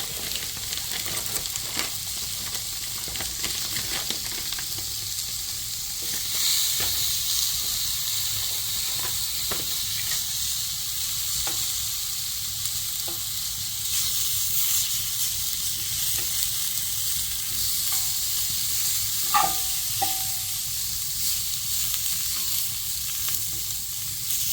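Steak and beef brats searing over an open fire, a continuous hissing sizzle with occasional pops and sharp crackles, close and alone.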